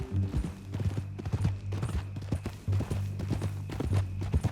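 Horse hooves clip-clopping in Red Dead Redemption 2, a steady, close rhythm of hoofbeats on the ground that continues through the whole clip with no talk over it.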